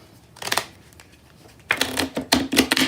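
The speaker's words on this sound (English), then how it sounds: "Shuffle the cards." A standard pack of playing cards being shuffled, with a short riffle early on and then a longer, louder burst of brisk riffling and snapping cards close by, no talk.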